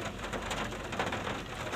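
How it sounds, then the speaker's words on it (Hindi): Steady rain pours down outdoors at a village fair, a dense continuous patter with no voices over it. "गाइस बारिश भी लग पड़ी और सीन हो गया अभी हम उतरे भी नहीं और बारिश भी लग पड़ी।"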